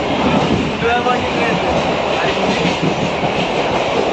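A train passing close by, a loud continuous rumble and rattle of wheels on track with a clickety-clack rhythm, while voices talk faintly beneath it.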